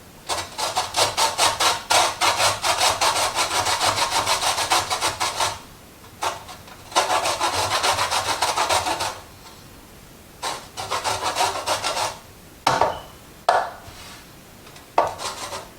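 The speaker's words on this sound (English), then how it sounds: "we're going to start with dicing or quartering and zesting my lime" A lime quarter is scraped against a lime zesting tool in rapid, rhythmic rasping strokes, loud and close, running in long bursts broken by brief pauses and a few sharp knocks.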